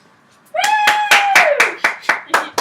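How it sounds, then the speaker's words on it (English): An audience at a speech breaks into rhythmic clapping, about eight sharp claps in time, opening with a long high voice that whoops over them. "Oh, you guys clapped this time."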